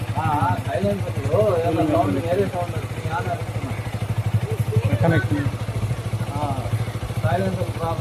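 Motorcycle engine running at a roadside check of its silencer, a loud steady low rumble that persists throughout while several people talk over it.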